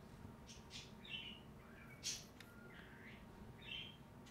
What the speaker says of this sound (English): You can hear one of the birds in the background going crazy.